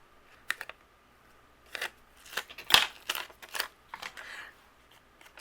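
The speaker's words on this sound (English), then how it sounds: "then I'm going to use my scissors" Scissors cut along paper in several close, crisp snips and rustles, irregularly spaced and separated by quiet gaps, in a calm craft setting with no voices.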